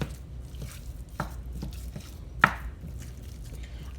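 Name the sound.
ground lean meat being broken up in a pan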